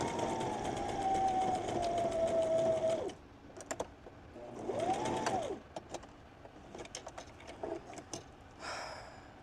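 A sewing machine stitches cotton wipes in a steady mechanical whir with a rising and falling motor tone, then stops and starts in short bursts with faint clicks, quiet and close.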